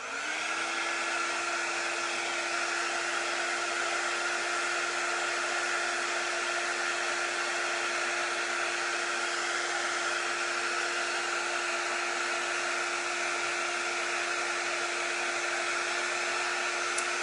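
A hair dryer blows steadily on a board freshly coated with chalk paint, a constant close whooshing drone with a steady motor whine running unbroken throughout, no voices.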